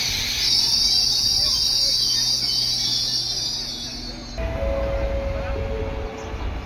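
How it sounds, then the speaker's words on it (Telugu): Local train at Dakar railway station, a loud hissing whine and rumble of rail cars with squealing wheels that cuts off abruptly, leaving lower station noise and a faint tone. "చూసారా ఎంత ఉందో ట్రైను."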